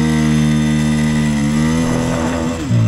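A Bajaj Pulsar N160 motorcycle launches hard in first gear, its loud, close engine drone holding a strong steady tone that shifts abruptly near the end.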